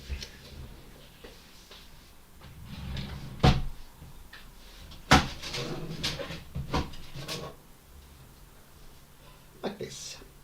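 A drawer holding stored CPUs is pulled open, giving a few sharp wooden knocks and sliding rattles at close range over faint room hum, with someone talking nearby.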